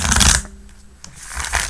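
Tarot cards being shuffled up close: a loud riffling burst at the start, a quieter gap, then a second softer riffle as the deck is arched and bridged.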